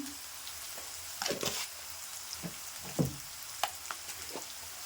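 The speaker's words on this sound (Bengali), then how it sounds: "দিয়ে আমি আলুগুলো সুন্দর করে ভাজা ভাজা করে নেবো" Potatoes frying in a pan with salt added give a steady broadband sizzle, broken by a few sharper scraping or stirring bursts, heard close with no talking.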